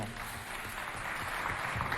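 Audience applause at a youth cultural center quiz competition, a faint, distant, steady patter of clapping throughout.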